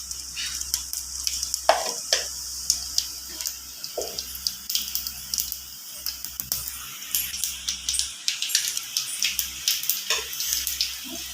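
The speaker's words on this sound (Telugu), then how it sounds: "ఇప్పుడైతే తాలింపు సరుకులు అయితే లైట్గా వేగినాయి కదా" Tempering spices with cumin seeds frying in hot oil for a ragi flour rotti meal, giving a steady close sizzle broken by clinks and stirring scrapes, with no talk.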